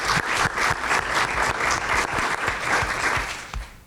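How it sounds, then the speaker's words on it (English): Applause at a school committee meeting, a room full of people clapping steadily for a retiring staff member, with some individual claps standing out as sharp, distinct hits before the sound fades near the end. "So let's just give a round of applause for Carl."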